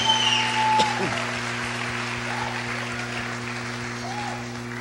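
A church congregation applauds together at a Brazilian evangelical congress service, a dense wash of clapping in a reverberant hall that holds steady for about five seconds over a droning tonal background.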